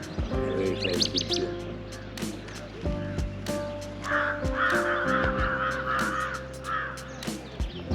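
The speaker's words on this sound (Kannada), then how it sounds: "ಪಾರವ ಕಾಗೆಗಳು." Crows caw repeatedly outdoors with pigeons nearby, the harsh calls close and fairly loud over a busy bed of chirping and background noise.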